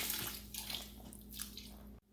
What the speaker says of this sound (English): And then we're gonna pour in our other 3 containers of chicken broth.